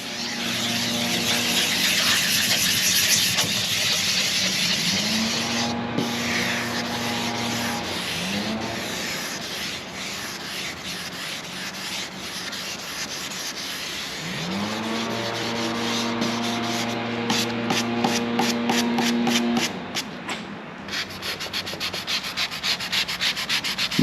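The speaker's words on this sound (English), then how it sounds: "We'll sand a little more till we're got some of that guide coat" Guide coat sanded off body filler on an outboard motor, a steady close abrasive rasp from a sander that runs continuously, its pitch rising and falling as the pressure and strokes change, loud throughout with no voices.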